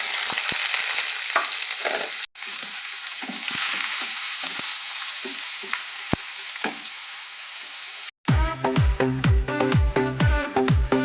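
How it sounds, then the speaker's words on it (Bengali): Onions fry in oil over tempered spices in a palak paneer preparation, a loud steady sizzle with crackles, cut off abruptly twice and ending in rhythmic knocking stirs against the pan. "ফোড়ন আমার লাল হয়ে গেছে, এরপর আমি পেঁয়াজ দিয়ে দেবো।"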